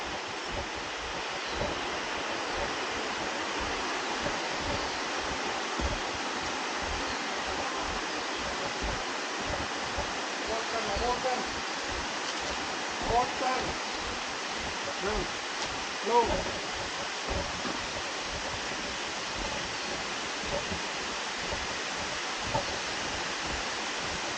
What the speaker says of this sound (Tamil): ஸோ ஆல்மோஸ்ட் அப்படியே வாட்டர் ஃபால்ஸ் வந்துட்டோம்